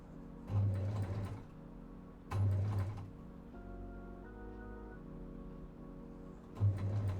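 Sewing machine running a seam on a dress, short bursts of rapid mechanical stitching with pauses and a lower whirring hum between them, close up.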